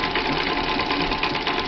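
A Singer Lotus treadle sewing machine stitches, a steady fast mechanical whirring and rhythmic chatter of the needle, close and continuous.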